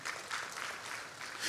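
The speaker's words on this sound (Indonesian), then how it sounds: "Kita berikan tepuk tangan dulu buat Tuhan kita." Congregation at a church service clapping together, a steady, fairly quiet wash of applause from a crowd that holds evenly through the whole moment without talk.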